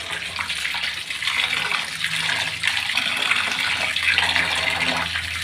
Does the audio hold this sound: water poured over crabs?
yes